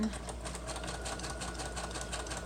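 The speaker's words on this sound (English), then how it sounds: "Okay, so I'm going to sew this all on." Close stitching of a paper patchwork wallet on a sewing machine, a fast steady mechanical patter with an even rhythm and low hum throughout, no talk.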